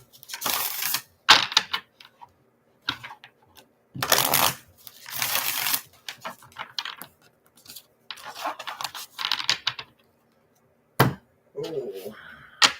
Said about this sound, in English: Give them a little shuffle, shuffle, shuffle.